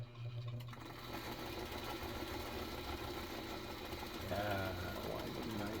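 Kenmore 158.504 sewing machine running to wind a bobbin, a steady close mechanical whir and hum that holds level and rises slightly near the end, with a voice talking over it.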